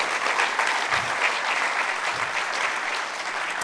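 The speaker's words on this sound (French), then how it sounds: "on va vous applaudir d'abord" An audience in a conference hall applauds after a speech, a dense, steady wash of many hands clapping at once that holds level for several seconds and fades slightly toward the end.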